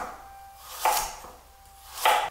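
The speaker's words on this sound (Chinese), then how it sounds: "胡萝卜斜切片" A kitchen knife cuts a carrot into diagonal slices on a board, two distinct crisp cuts spaced about a second apart, close and clear against a quiet background.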